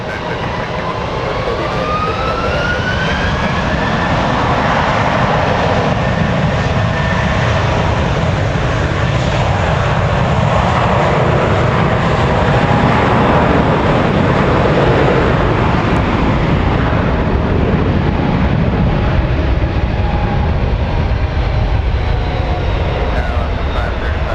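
A Southwest airliner in the Imua 1 livery, arriving at San Francisco airport from San Diego, makes a loud, continuous engine roar with a rising whine throughout, heard alone with no talk.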